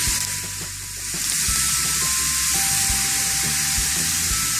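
A pork chop fries in a hot pan, giving a loud, continuous sizzle with small crackles and a few faint clicks of handling, close by and without talk.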